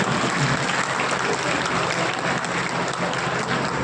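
Loud, dense applause fills the hall at an Indian award ceremony, continuous and evenly sustained, with no break in the clapping.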